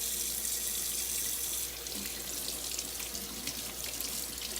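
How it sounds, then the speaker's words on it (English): Hot water running steadily from a tap into a sink for hand washing, a close, continuous hissing splash that shifts slightly partway through as hands move under the stream. "It's important to use hot water when washing your hands."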